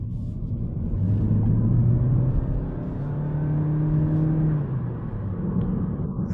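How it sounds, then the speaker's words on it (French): A 2025 Toyota Corolla Touring Sports accelerates, heard from inside as a low engine rumble and whir that rises in pitch, eases, then climbs again, steady and fairly loud. "Vous entendez aussi maintenant l'accélération, la façon dont ça sonne quand on accélère"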